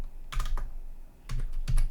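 Typing a terminal command on a computer keyboard: a brief burst of a few quick, close key clicks with a short pause between them.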